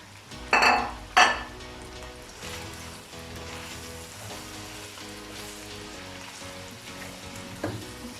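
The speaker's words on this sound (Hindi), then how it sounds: "अब इसमें तमाम पाउडर मसाले डाल देंगे और 1 से 2 मिनट के लिए भून लेंगे" Powdered spices roast with ginger-garlic paste in a karahi, sizzling softly as they are stirred; two loud metallic scrapes from the spoon against the pan open the sequence, followed by a steady low frying hiss.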